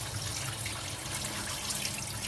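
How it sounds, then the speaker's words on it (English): Water being sieved off settled agidi, a faint, steady trickling and pouring close by, with no voices. "So I'm going to sieve it away."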